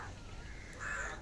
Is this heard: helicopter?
no